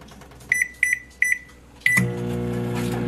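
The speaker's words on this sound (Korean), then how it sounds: "한 개만 전자레인지 한번 돌려보겠습니다." A microwave oven is set with a string of sharp keypad beeps, then starts up into a steady mechanical hum as it runs, heating a frozen, plastic-wrapped chodang sweet corn cob up close.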